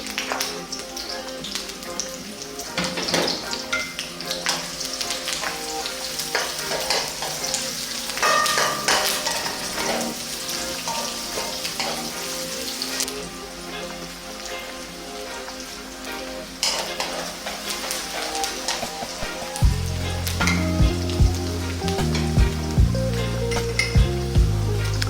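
Onion, pandan and curry leaves frying in a Sri Lankan pan, steady crackling sizzle with frequent stirring scrapes and clinks of utensil on metal, growing busier and louder toward the end.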